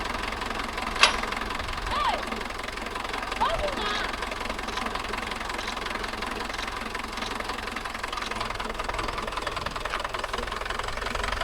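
A Mahindra Yuvo Tech Plus 585 DI 4WD tractor engine knocks and idles steadily nearby, a continuous rough mid-pitched chug under people talking, with a brief sharp sound near the start.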